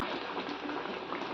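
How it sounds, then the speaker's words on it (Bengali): Dalia (broken wheat) boiling in a pot, giving a steady dense bubbling and simmering hiss, close and even throughout, with no voices. "আর ওই 2-3 মিনিট মতো ফোটাবো, ফুটিয়ে আর কি নামিয়ে নেবো।"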